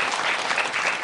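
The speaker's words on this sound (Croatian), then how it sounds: "Jedan aplauz." A live kids' show audience breaks into brief applause, a dense burst of many clapping hands, steady and fairly loud for about a second with no talk over it.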